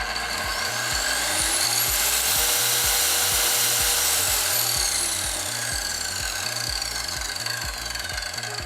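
A Crown CT15134 plunge saw spins up gradually on its soft start with a rising whine, then runs steadily with a loud, even motor hum.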